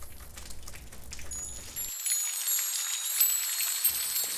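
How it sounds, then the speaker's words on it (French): Rain falling, heard as soft pattering and dripping that starts low and becomes brighter and more hissing after a cut partway through, steady and moderately faint with no voices. "Et la pluie tomba enfin."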